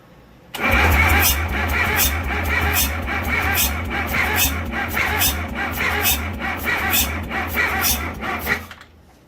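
The diesel engine of a 1970 Case 580CK backhoe cranks with a steady, rhythmic churning that starts abruptly and runs for about nine seconds, beginning to catch and fire toward the end, loud and close.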